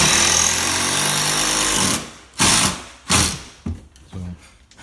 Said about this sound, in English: He's screwing it in